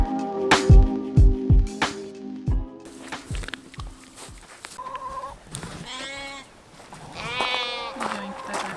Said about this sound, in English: The sheep are out in the pasture that he made.